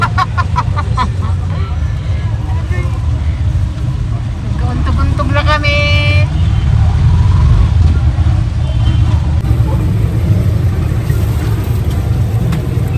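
A motorized tricycle ride carries a loud, steady, close engine rumble throughout, with people talking and laughing over it.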